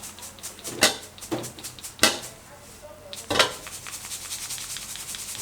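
Crisp crackling and rustling bursts of crispy fried garlic being shaken and scraped in a bowl, several sharp crunches with quieter rustle between.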